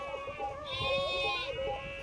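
Goats bleating nearby at a temple gathering, a wavering harmonic bleat swelling midway through and fading, moderately loud, with voices murmuring underneath.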